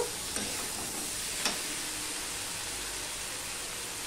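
Okra being stir-fried with spices in a pan gives a steady, even sizzle with a couple of sharp scraping clicks from the stirring, close and unbroken by any talk.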